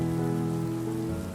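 Steady rain falls in a dense, even hiss that stays constant from start to finish, with no voices or other sounds on top.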